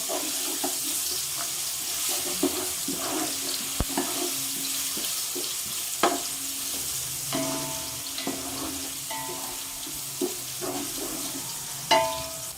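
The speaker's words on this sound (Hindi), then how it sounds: "बड़ा चम्मच लहसुन डाल रहे हैं। मज़ीद इसको सिर्फ 2 मिनट फ्राई करेंगे।" Onions and garlic frying in a pot for achari chana chicken biryani: a continuous close hiss and sizzle with regular clinks and scrapes from a spoon stirring against the pot.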